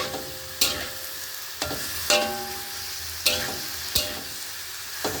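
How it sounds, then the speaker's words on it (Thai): Vegetables stir-fried in a hot wok before noodles go in, with a steady sizzle broken by about five sharp scraping clangs of the spatula against the pan, close and loud, no talking. "คนชอบกินผัก ผัดเข้าไปนะครับ"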